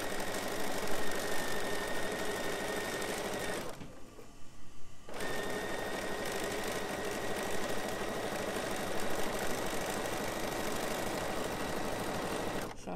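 Bernina sewing machine fitted with foot 3C sews shearing elastic, a fast steady mechanical whir that stops briefly for about a second and then resumes just as evenly.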